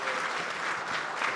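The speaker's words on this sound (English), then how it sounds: "so round of applause for that" A convention audience applauds C64 composer Rob Hubbard, a dense, even wash of many hands clapping together at moderate distance, steady throughout.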